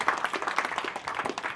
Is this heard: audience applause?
yes